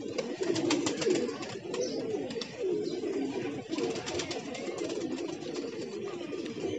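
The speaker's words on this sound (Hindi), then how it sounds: "और चलिए कुछ कबूतरों का शौक कीजिए आप।" Several pigeons coo continuously in low, burbling tones, close by, with light rustling and a few higher chirps mixed in.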